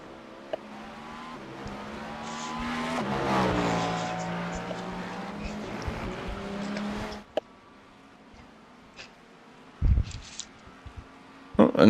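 Race cars in a racing video game lap Circuit de la Sarthe, an engine rising and falling through gear changes with tire noise, then quieter sections with brief thumps near the end.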